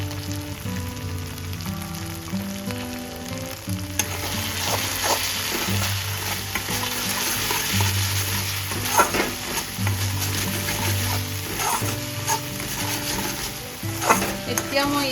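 Oil fries steadily in a pan after salt and turmeric go in, a continuous sizzle with repeated scraping spoon strokes and occasional metallic clinks throughout, close and fairly loud, with no talking.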